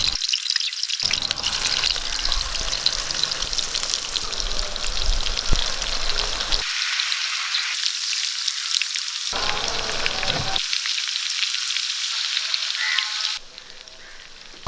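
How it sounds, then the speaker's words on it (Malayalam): Chicken pieces frying in hot coconut oil with curry leaves, a loud, dense close-up sizzle that cuts off abruptly several times and then resumes, ending in near silence. "അതിലേക്ക് നമുക്ക് ചിക്കൻ പൊരിച്ച് വെക്കാം"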